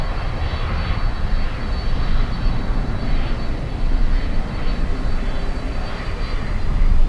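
An Aeromexico airliner sits on an airport runway with its engines running, giving a loud, steady broadband roar with a low rumble and a faint high whine that swells slightly toward the end, and no voices.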